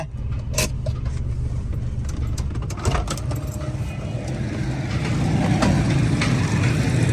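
A car idles and creeps along while being parked, its engine a steady low hum close by, with faint clicks and knocks over it and a quiet voice at times.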